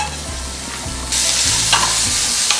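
Carrots dropped into a lightly oiled hot pan for kimbap burst into a loud, bright sizzle partway through, with stirring clinks under the steady frying hiss.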